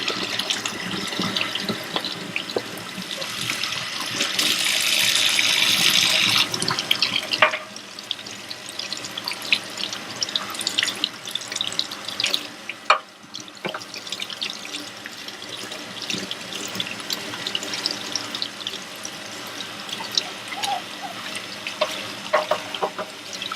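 A kitchen faucet runs during a bath for six-week-old Aussiedoodle puppies, a steady rushing stream that stops partway, followed by splashing, dripping and handling sounds nearby with no talk.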